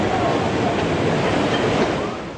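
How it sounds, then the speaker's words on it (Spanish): Tsunami seawater in Japan surges over a sea wall as a loud, continuous roaring wash of churning water, steady throughout and easing slightly at the end. "el mar pasa por encima del dique"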